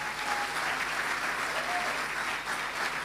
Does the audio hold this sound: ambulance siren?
no